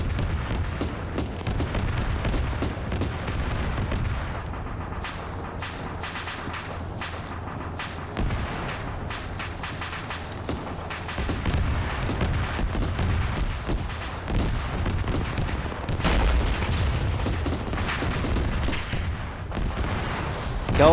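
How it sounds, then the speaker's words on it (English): Tank blowing up in a combat video game, a heavy rumbling boom in the middle of continuous low-frequency artillery-like explosions and gunfire, loud and sustained throughout with a brief voice beneath. "I was going to aim for the tank, but, well, it blew up instead."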